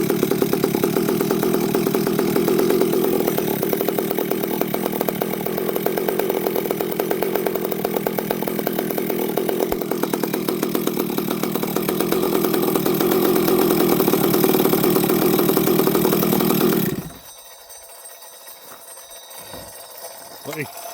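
A Stihl chainsaw engine runs loud and steady with a rough, struggling tone, as if about to stall, then cuts off abruptly near the end, leaving near silence.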